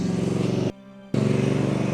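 A motorcycle engine runs steadily and loud with a throbbing idle, cutting out abruptly for about half a second before resuming at the same rumble.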